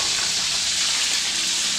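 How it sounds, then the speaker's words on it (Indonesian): Food frying in a pan while chilli balado sauce and chicken feet are cooked, giving a steady, close, loud sizzle with a fine crackle that runs unbroken and with no talk. "Nah, goreng."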